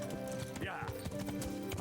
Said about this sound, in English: Henry, you absolute stupid fucking Bellany, you shitty goddamn fucking horse.